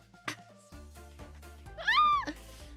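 A cat meows once, a short rising-and-falling cry, close and clear over quiet background noise.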